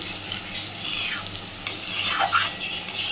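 Small fish roe fritters fry together in hot oil, a steady sizzle with stirring, scraping and a few sharp utensil clinks against the pan, close and moderately loud.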